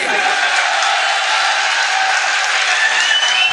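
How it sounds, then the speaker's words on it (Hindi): Loud, dense applause from a large audience at an Urdu-Hindi mushaira poetry recital in Khatauli, sustained evenly and close throughout, with crowd murmur mixed in. "पीछे तक जोरदार ताली बजनी चाहिए"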